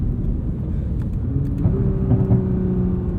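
A 2021 Nissan GT-R Premium's engine drones steadily inside the cabin while driving in winter, rising slightly in pitch toward the end as it builds revs.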